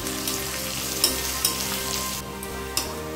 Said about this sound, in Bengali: এরপর পেঁয়াজ বাদামি করে ভেজে নেব।